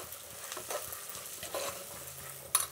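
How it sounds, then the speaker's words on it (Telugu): Dried red chillies frying in oil with lentils for a dal, a soft steady sizzle with light stirring scrapes and a small clink near the end, quiet and close. "ఇప్పుడు ఎండుమిరపకాయలు వేస్తాము"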